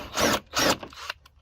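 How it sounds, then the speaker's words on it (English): A step bit in a drill boring a hole through a plastic Jeep JL/JT front bumper fog light cover, two short grinding bursts followed by a brief lighter scrape. "I got a bit holder that I just put a step-up bit in. Since we're drilling plastic"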